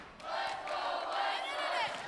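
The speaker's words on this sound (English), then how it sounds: "Crowd trying to will this Viking squad back in the match as Ostrich sends it through." A college volleyball crowd at an NCAA regional match roars in a sustained swell of cheering and shouting, fairly distant and steady, with faint talk over it.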